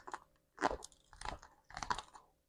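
Crunchy Mexican street corn on the cob, elote dusted with cayenne pepper, is bitten and chewed close to the mic in three or four distinct crunchy bursts with quiet gaps between.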